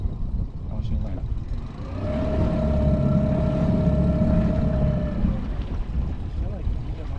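An outboard motor on a small dinghy runs in reverse, its engine rising to a steady droning whine for several seconds then easing off, close by with water and wind noise around.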